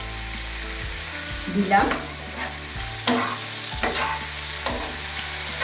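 Julienned ginger and garlic frying in a pan, a continuous sizzle with stirring scrapes and clatter, close up, and a brief word spoken.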